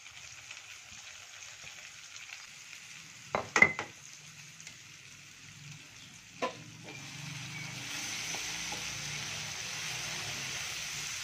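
Ground spice paste sautés in a pan for sayur lodeh, a faint soft sizzle with a couple of sharp utensil knocks early on, then a slightly louder steady frying hiss toward the end.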